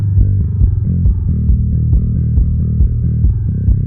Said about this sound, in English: Now we are going to solo the kick and the bass, and it sounds like this.